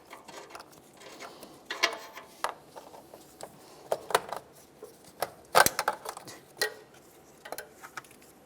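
A ratchet unscrews the upstream O2 sensor from a 2009-2010 Pontiac Vibe 2.4L, giving close, sharp clicking bursts in short irregular runs with quiet gaps and no talk.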